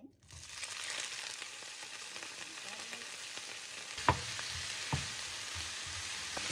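A pan heating with oil for Ethiopian tikel gomen, a cabbage and potato dish, giving a soft continuous hiss and faint sizzle with a couple of light clinks of utensil against pan, heard close with no voices.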